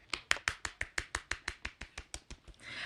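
Applause from a lone pair of hands: about fifteen quick, even claps, close and sharp, slowing slightly before giving way to a soft rushing noise.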